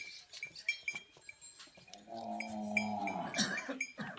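A hungry Nili buffalo in Punjab, Pakistan lets out one long, loud, deep moo partway through, preceded by scattered clanks and light rustling around the animal.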